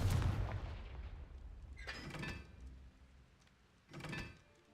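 A Confringo blasting spell fired in Hogwarts Legacy, heard as two sharp, bright bursts about two seconds apart, each with a crackling tail, following a heavier low rumble at the start.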